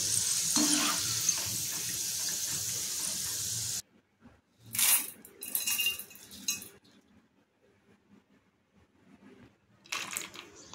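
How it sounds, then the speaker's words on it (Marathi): Grated potato for fasting chivda frying in hot oil: a steady, loud sizzle fills the first few seconds, then cuts away to quieter bursts of stirring and utensil clinks, close by. "बटाट्याचं जे किस करून घेतलेलं आहे ते टाकून तळून घेणार आहे।"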